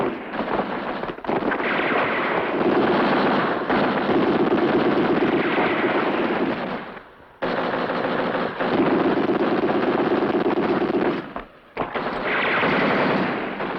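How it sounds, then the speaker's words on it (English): Sustained, dense gunfire roars throughout a desert battle scene at El Alamein, rapid machine-gun bursts packed into long loud stretches broken by two brief pauses, with no voices over it. "Take cover! Into the ditch and return fire!"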